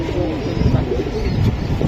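Giribaz pigeons cooing at a pigeon farm, soft low throaty coos repeating under a dense, noisy background of birds and ambient bustle.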